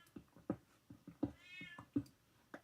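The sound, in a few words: cat meowing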